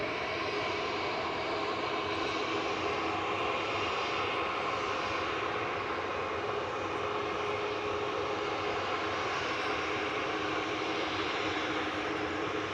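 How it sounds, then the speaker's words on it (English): An Air Tanker airliner bound for Palma de Mallorca lines up for takeoff at Manchester Airport, its jet engines a steady, even roar heard from nearby that holds without a break throughout. "Here's the air tanker to Palma de Mallorca. Yay. Finally lining up."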